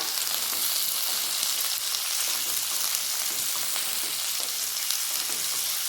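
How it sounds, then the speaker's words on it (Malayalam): Fennel and cumin seeds sizzle and splutter in hot oil in a pan, a steady close hiss with faint crackles throughout and no talking. "നമുക്ക് കുറച്ച് വലിയ ജീരകം, പെരുംജീരകം അത് അങ്ങോട്ട് കൊടുക്കാം. അതെല്ലാം പൊട്ടുമ്പോഴത്തേക്ക്"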